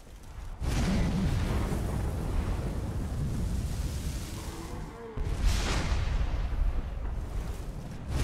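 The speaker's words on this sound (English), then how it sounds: "Rain destruction on your foes by showering them with explosive blasts" Meteors from a summoned-meteor spell in Skyrim, a video game, crash down in two heavy rumbling blasts, each a long roaring impact that fades slowly.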